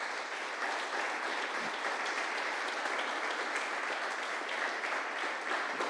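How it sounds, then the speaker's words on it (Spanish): A church congregation claps for the Lord in dense, steady applause that holds at an even level throughout, with no talking over it. "Dale un fuerte aplauso al Señor"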